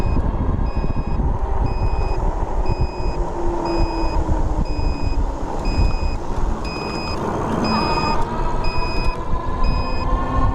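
A steady series of high electronic beeps from a HappyRun G70 ebike's turn signal repeats at an even pace, about one per second, over a loud engine-like road drone.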